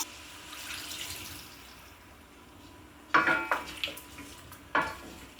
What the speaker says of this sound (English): Let's add the stock.